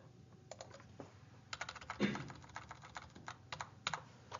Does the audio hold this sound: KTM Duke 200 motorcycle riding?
no